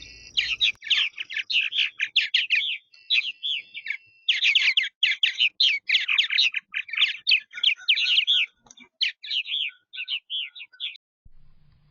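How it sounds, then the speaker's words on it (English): Purple martins chirp and twitter in a backyard colony, a dense, continuous chorus of bright overlapping calls from many birds close by, with only brief pauses. "as you can see in this video, there's tons of purple martins."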